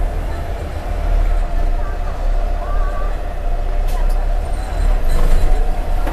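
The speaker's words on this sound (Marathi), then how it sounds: "लगेच 2 मिनिटांनी गाडी निघाली आता आपल्या इथून." A new Shivshahi bus on the Nanded–Solapur route pulls away from a stand, its engine a low steady rumble with road and cabin noise and brief higher squeals.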